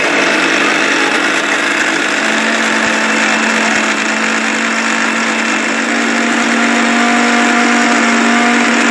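A mixer grinder churns chilled cream into butter, a loud, steady motor whir that continues unbroken and close, with no talking.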